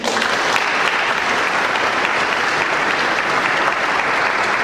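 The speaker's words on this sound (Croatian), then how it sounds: "Molim da jednim pljeskom pozdravite fra Antonija Šakota." An audience at a public talk applauds to greet a Franciscan friar, a dense, even burst of clapping from many hands that stays loud throughout.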